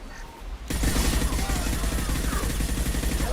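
Rapid automatic gunfire in a video game breaks out abruptly and then holds as a dense, continuous rattle of shots, fairly loud and close, with no voices.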